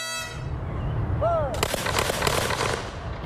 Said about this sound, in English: The anniversary of the battle is marked with gunfire and cannon fire at Gateway Arch National Park